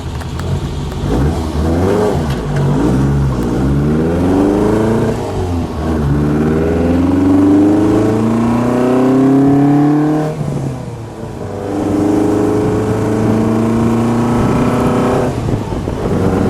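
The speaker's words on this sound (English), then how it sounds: "Now we're going along in fourth gear." A brand-new 1965 ASA 1000 GT Spider sports car engine pulls hard and loud from close by in fourth gear, its pitch climbing steadily through long accelerating runs, with a brief dip before rising again.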